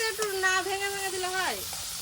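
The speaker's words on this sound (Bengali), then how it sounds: "ইলিশ মাছের মাথাগুলো ভাজা হচ্ছে" Hilsa fish heads frying in oil give a soft, continuous sizzle in a home kitchen, partly covered by a voice that talks over the cooking noise.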